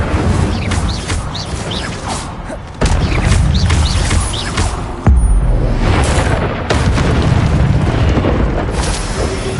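Incendio fire spells are cast in Hogwarts Legacy on PS5, with loud, roaring booms and bursts of flame rushing one after another over dense, continuous game noise.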